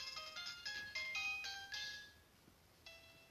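Phone call ringtone from the Pokégear in Pokémon HeartGold: a bright electronic chiptune melody of quick stepped beeps, clear and close, trailing off into a final lone note, with no talking.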